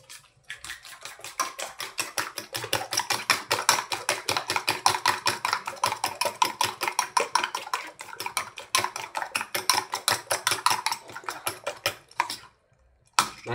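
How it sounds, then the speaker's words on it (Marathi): Egg mixture with spices and salt is beaten in a bowl, probably with a fork or whisk, a fast even rhythm of small clinks against the bowl going on for several seconds, briefly pausing, then stopping. "आणि आता आपण चांगला फेटून घेऊ"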